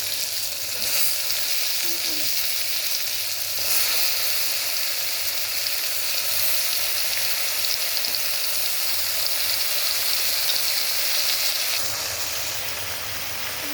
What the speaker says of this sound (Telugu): కొంచెం వేగిన తర్వాత ఆయిల్లో ఫ్రై అయ్యాక ఇప్పుడు